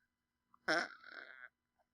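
A single short, buzzy fart, close and clear against near silence, lasting under a second and tapering off.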